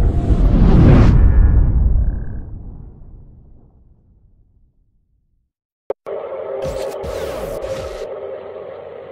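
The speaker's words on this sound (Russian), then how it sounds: "Трубные звуки с неба раздаются по всей земле" A deep, loud rumbling drone swells over the sky in Slovakia, then fades into near silence before a sharp click and a steady mid-pitched tone with brassy overtones.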